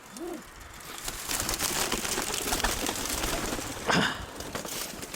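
A pigeon gives a soft, faint coo near the start, followed by rustling and scuffing close to the mic, with a louder sharp burst later.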